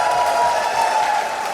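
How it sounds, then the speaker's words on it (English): A live audience at a comedy podcast recording cheers and applauds in a steady, dense wash of crowd noise that holds at full level without a break for the whole moment. "Biggest cheer of the night for social anxiety"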